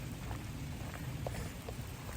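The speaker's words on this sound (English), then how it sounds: "And of course, it's raining." Steady rain falling outdoors in Maryland near a parked Chrysler 300, heard as a continuous soft wash of patter at moderate distance with no voices.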